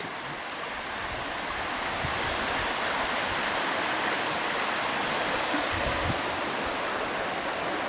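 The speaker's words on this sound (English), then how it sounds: "This river, this is the North River right here that runs and flows into the lake." A clean river, the North River, flowing into a lake, runs as a steady, loud broadband rush of water, constant throughout with no voices over it.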